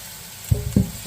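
Chopped onion and cabbage hit a hot pan in two quick thumps, then sizzle briefly as they start frying.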